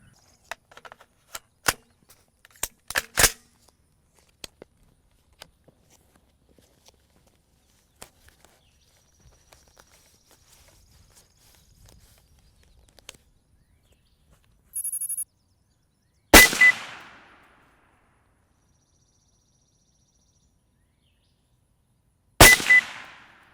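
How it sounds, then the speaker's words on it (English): Two sharp, loud rifle shots spaced several seconds apart while zeroing a ZEISS Conquest V6 1-6x24 scope outdoors, each cracking close by with a brief decaying echo, after a stretch of quiet handling clicks and small knocks. "we should be close enough now to send some more rounds downrange"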